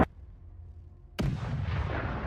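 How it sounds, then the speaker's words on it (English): A HIMARS rocket launcher fires a missile, a sharp blast at the start, then a second loud boom that gives way to a sustained roaring rush. "Himars fires the second one to strike the remaining grad."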